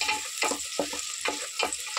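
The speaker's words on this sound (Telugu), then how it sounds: "బాగా ఫ్రై చేసుకున్నాము." Onions and chopped green chillies fry in a pan for a country chicken curry. The close sizzle is dense and continuous, with rhythmic stirring scrapes about every half second.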